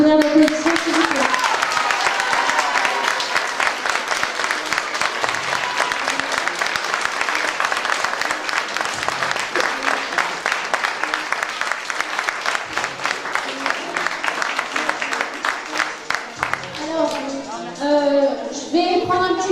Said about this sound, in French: je voudrais pour tout ce petit monde un tonnerre d'applaudissements, s'il vous plaît